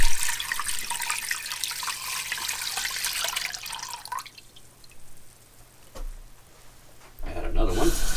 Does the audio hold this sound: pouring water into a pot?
yes